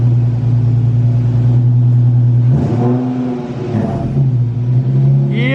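A car with a brand new transmission, flywheel, clutch and pressure plate runs close by, a steady low engine drone that dips briefly as it shifts, then settles back into a smooth hum.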